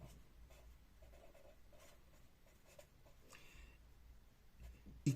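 Marker or chalk writing on a classroom board during a second-grade division lesson: faint scratchy strokes in short bursts, quiet and close, with no talking.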